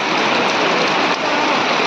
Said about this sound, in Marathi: संध्याकाळच्या टायमाला ना पाऊस खूप मोठा पाऊस येतो हा बघा एवढा मोठा पाऊस